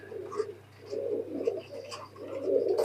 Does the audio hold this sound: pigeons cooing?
yes